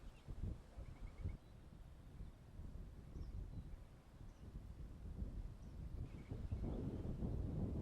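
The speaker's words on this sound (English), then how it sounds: "You can hear that wind rushing." Wind rushes across an open disc golf course, buffeting the microphone in low, uneven gusts that swell louder toward the end, with no voices.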